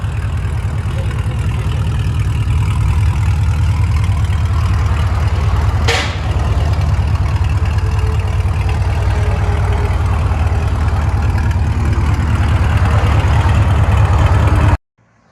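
A 2010 Chevy Camaro SS with its 6.2L LS V8, BBK headers and Borla ATAK exhaust idles close by with a deep, steady, lumpy rumble, cut off abruptly at the end.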